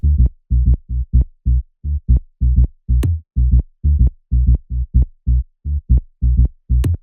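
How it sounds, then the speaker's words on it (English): A deep tech house synth bass line pulses in short, evenly repeated notes, loud and upfront, with an occasional higher click, no voices. "Then after that, we have the basses, which sound like this."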